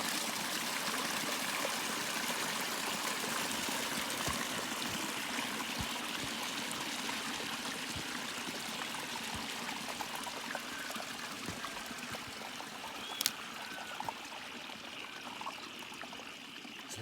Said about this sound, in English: So that's the overflow from this beautiful dam.